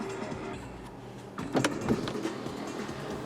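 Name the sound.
2018 Acura RDX power moonroof motor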